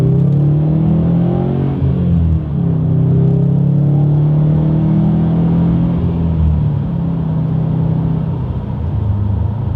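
A 2016 Subaru WRX STI engine growls loudly from inside the car, a deep sustained rumble with rising revs as it picks up speed after railroad crossings.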